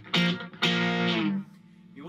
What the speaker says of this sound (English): So that's a little bit of crunch on it, that's on the neck pickup